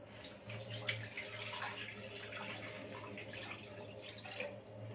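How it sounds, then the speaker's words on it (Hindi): Water pours from a tap into a cooking pot on a gas stove, set to boil for making gatte, a gram-flour dumpling curry; a steady, moderately close splashing runs throughout with no talk. "इसमें पानी डालेंगे।"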